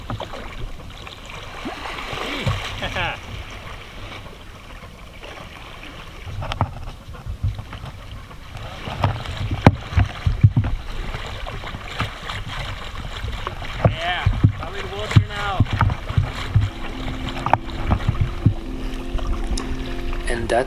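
An inflatable rubber boat is paddled across the Atlantic Ocean. Close, rhythmic splashes and water slapping sound steadily over continuous wind buffeting the microphone, with no one talking.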